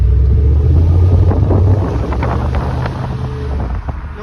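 Low engine and exhaust rumble of a 2002 Cadillac Eldorado ETC Collector Series heard from inside the car with the window down, mixed with heavy wind buffeting, the drone dropping in pitch partway through.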